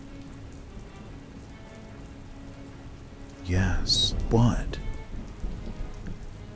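Steady rain pattering in a Pokémon roleplay video game, a soft continuous hiss through the clip, with a brief burst of louder noise midway and a few spoken words over it.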